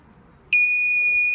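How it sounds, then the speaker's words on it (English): A wearable watch buzzer gives a sudden shrill electronic tone that starts abruptly and holds steady and loud after a quiet moment. "it's gonna give the user a buzzer with a red light"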